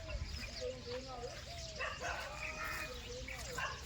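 A dog in a village yelps and barks in quick, whiny bursts, fairly close, against a busy background with faint voices.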